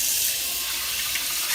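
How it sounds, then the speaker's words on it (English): Cold water runs steadily from a tap over sausage casings being rinsed for Swedish sausage making, a continuous close hiss and splash with no talk. "you have to rinse them off in cold water"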